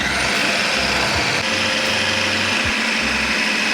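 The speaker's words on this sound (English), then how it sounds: "Time to blend." A food processor whirs steadily at full power, blending vegan protein bar ingredients with coconut flour, a loud unbroken motor drone with a faint rhythmic churning underneath.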